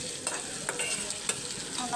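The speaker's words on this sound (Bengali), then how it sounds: "আবার কড়াইয়ের মধ্যে তেল দিয়ে দিলাম, চিংড়ি মাছের মকচ ভুনা করে নেব।" Oil sizzling hard in a wok, a steady close hiss with a few sharp crackles and spatters across the short stretch, with no voices.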